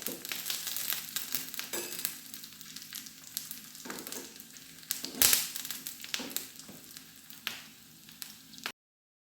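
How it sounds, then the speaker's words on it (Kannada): Two dried red chillies and curry leaves fry in hot oil for a tempering on amaranth stem gojju, a steady close sizzle and crackle broken by stirring scrapes, with no talk. "ಈ ಟೈಮಲ್ಲಿ 2 ಕೆಂಪು ಮೆಣಸು ಮತ್ತು ಸ್ವಲ್ಪ ಕರಿಬೇವಿನ ಸೊಪ್ಪು ಹಾಕಿ ಇದನ್ನು ಚೆನ್ನಾಗಿ ಫ್ರೈ ಮಾಡಿ ಒಗ್ಗರಣೆ ಮಾಡಿದರೆ ಆಯಿತು."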